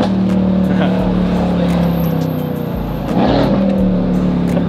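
A twin-turbo Lamborghini Huracan engine running nearby, loud and throaty, holding a steady drone before a sharp rise in revs near the end, with people talking over it.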